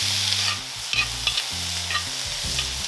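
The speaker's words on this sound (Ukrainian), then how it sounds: "До помаранчевого, яскравого овоча додаємо цибулю і швидко обсмажуємо." Onion added to carrot crackles and sizzles in a hot frying pan, a close, steady frying hiss with stirring, heard under background music without speech.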